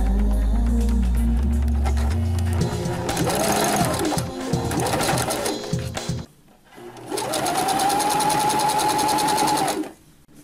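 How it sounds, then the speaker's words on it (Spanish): A sewing machine stitching the hem of a Valentine's Day tablecloth, running in loud close bursts of fast rhythmic whirring, pausing briefly near the middle before starting up again. "Volvemos a meterlo debajo del prensatela y vamos a coser de nuevo."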